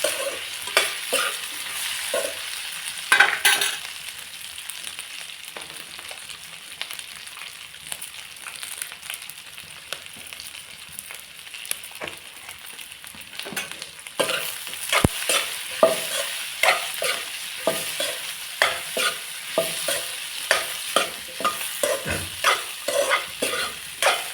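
Potatoes and turmeric sizzle in hot oil while being stirred, a steady close frying hiss with rhythmic scraping strokes of the spoon growing more regular toward the end.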